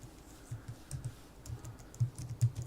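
Quiet, close computer keyboard typing: a handful of light key clicks in an uneven rhythm, with no voices.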